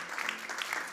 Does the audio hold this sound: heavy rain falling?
no